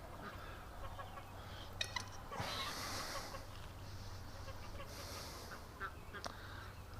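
Young gosling honking in a small repeated burst at close range amid steady background noise and handling sounds, with a person speaking nearby.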